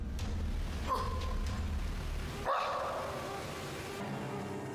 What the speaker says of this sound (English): one of the most chilling noises is that of a growl or a bark